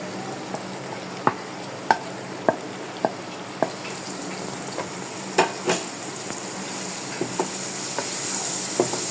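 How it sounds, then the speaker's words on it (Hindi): Meat cooks in tomato masala in a pot, giving a steady low sizzle punctuated by sharp spoon clinks and stirring scrapes at irregular intervals. "अब मैं इसमें गोश्त डालने लगी हूँ।"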